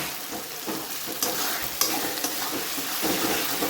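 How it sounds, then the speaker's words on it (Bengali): Ginger frying lightly in a pan gives a close, steady sizzle punctuated by a few sharp clicks and scrapes of stirring, sustained across the short stretch. "এরপর আমি তাকে হালকা ভেজে নেবো, বেশ যাতে আদা গন্ধটা মরে যায়।"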